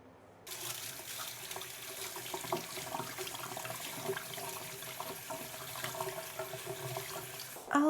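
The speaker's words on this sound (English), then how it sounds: "Let me rinse the stratum off, but look, got a nice little root system going." Steady running water from a tap rinses substrate off the roots of an alocasia plant at a sink, a continuous close splashing rush that holds for several seconds with no talk.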